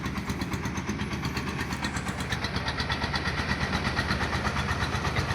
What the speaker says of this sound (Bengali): শ্যালো মেশিন টার দিয়ে নৌকাটা নিয়ে চলে যাচ্ছে